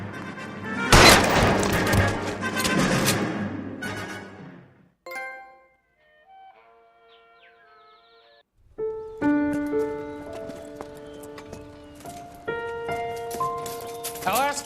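Gunfire in a shootout in the video game L.A. Noire: a dense, loud volley of shots in the opening seconds, then a lull and a stretch of game music with scattered thumps.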